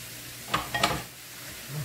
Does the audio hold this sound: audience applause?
no